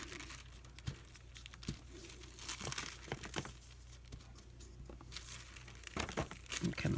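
Decorative tissue paper is handled and crinkled in a craft project, with soft scattered rustles and sharper crackling bursts, close and fairly quiet, with no voices.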